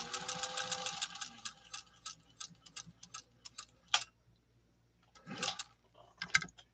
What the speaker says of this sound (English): Cork material is kind of fun to sew.